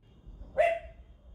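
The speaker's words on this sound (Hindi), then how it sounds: "देखो कुत्ते भी इधर ही देख के भौंक रहे हैं।" A single sharp dog bark rings out at night, clear and moderately near, followed by quiet background.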